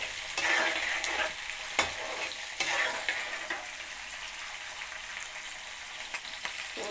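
Green chillies and tomato sizzle in a pan while a spoon stirs through them, producing scraping strokes over a continuous frying hiss that eases off toward the end; no talking.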